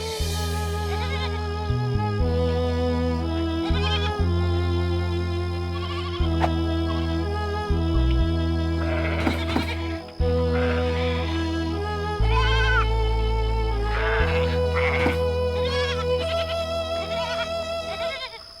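Cartoon sheep in a pen bleat in fright, several wavering cries layered over loud continuous background music.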